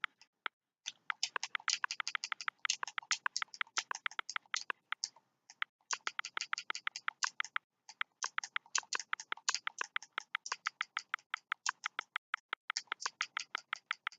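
Quick keyboard typing as a code is entered for the game Ark on Xbox, bursts of close, crisp key clicks with a few short pauses, no voices heard.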